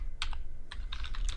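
Quick clicking keystrokes on a computer keyboard, a short close burst of several taps in uneven rhythm over a low background hum.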